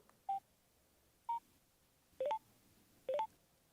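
Cardo HJC 4X Bluetooth motorcycle intercom emitting short electronic beep tones as its intercom button is held: a single beep, another a second later, then two quick double-tone chirps, clean and close with no speech.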